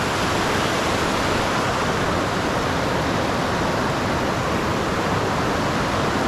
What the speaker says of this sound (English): Decent sizable creek. It's a very pretty creek.